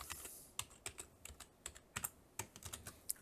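Rapid, uneven keystrokes on a computer keyboard while logging in to a parent portal, a dozen or so sharp close clicks in bursts over about three seconds, with no voices.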